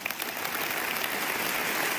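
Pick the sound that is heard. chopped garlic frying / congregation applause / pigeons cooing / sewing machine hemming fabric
congregation applause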